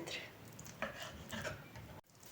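A few soft knife cuts through skinned chicken fillet, cut into small cubes on a board, irregular and close, in a quiet kitchen.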